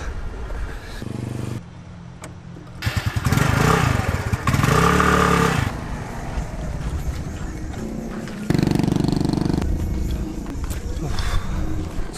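A scooter engine rumbles and revs while riding in Vietnam, rising and falling in loudness, with a person talking over it at times.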